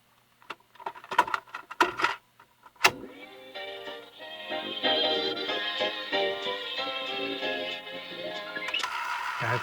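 A Radio Shack AM/FM cassette player fast-forwards a noisy 1960s tape: clicks and clunks of the buttons come first, then a steady whirring, rattling mechanism runs continuously nearby at moderate level.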